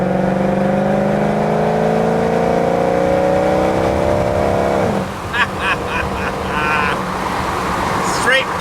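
A straight-piped 2013 Mercedes-AMG C63 with the M156 V8 runs up close. A loud, raspy drone glides slowly downward in pitch, then settles into a rougher idle with scattered sharp chirps and clicks.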